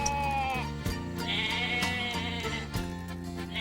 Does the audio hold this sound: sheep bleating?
yes